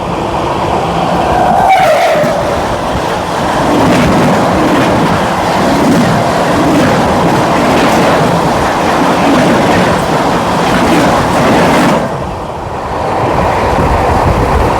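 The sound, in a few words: trains crossing, Barmer Howrah Express passing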